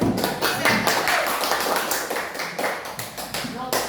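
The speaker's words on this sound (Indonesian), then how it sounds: "Tepuk tangan." A classroom of students claps together briefly, a quick cluster of sharp hand claps at close range, mixed with children's voices and chatter.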